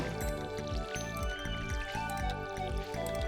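Watering crops in a farming video game: repeated soft pouring and dripping splashes at a steady rhythm, sitting under a constant layer of background music.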